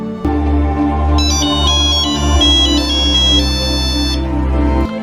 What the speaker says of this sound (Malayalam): നോക്കിയയുടെ പ്രശസ്തമായ നോക്കിയ റിംഗ് ടോൺ